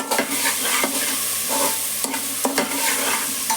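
Salt being stirred into watermelon rind stir-fry in a pan: steady frying sizzle with several sharp spoon scrapes and taps against the pan, close and clear, no talking.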